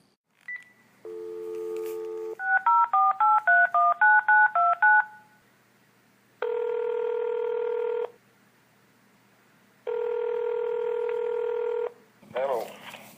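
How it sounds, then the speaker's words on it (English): A telephone call being placed: an initial tone, then a quick run of about eight touch-tone dialing beeps, followed by two long ringback tones with pauses between, close and clear. "Why don't we try to reach Mr. Hess by phone"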